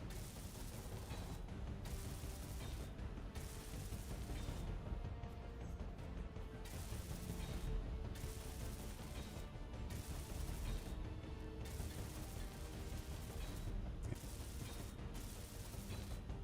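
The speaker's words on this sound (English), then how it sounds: "I'm gonna go ahead and weld up these." A welding tool works on large steel tubes in the video game Space Engineers, making a steady mechanical grinding hum broken by repeated rhythmic bursts of crackling hiss, with no talk.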